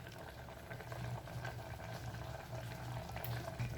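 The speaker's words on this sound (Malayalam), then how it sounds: "അപ്പം നന്നായിട്ട് തിളച്ച് വന്നിട്ടുണ്ട്." Salted water comes to a boil in a pressure cooker for vegetable rice, a quiet, steady bubbling close by with a faint low rumble and no voices.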